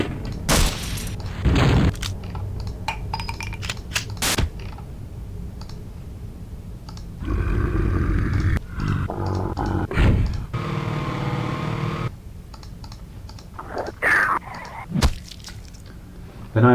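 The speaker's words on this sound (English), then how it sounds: "this is pretty much all player weapons" Player weapon sound effects from a Unity-built Half-Life demake game play one after another: sharp clicks, gunshot bursts and booming blasts, separated by quieter pauses and a few longer rumbling or whirring effects.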